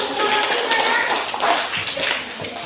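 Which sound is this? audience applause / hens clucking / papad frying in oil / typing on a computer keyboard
audience applause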